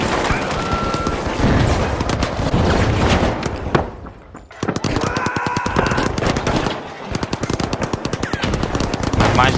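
Rapid automatic gunfire rattles almost nonstop in The Finals video game, loud and close, with a brief break midway before the sustained bursts resume along with some booming impacts.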